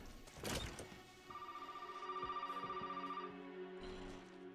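Telephone ringing in the video game Resident Evil 7, a repeating electronic bell tone that rings steadily for a couple of seconds after a brief clatter, then fades out, mid-distance with no voices.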